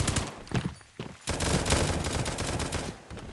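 Rapid bursts of gunfire ring out during a base raid in the survival game Oxide: Survival Island, loud, dense overlapping volleys with a brief lull near the start before the shooting resumes steadily.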